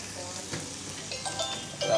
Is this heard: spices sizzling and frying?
yes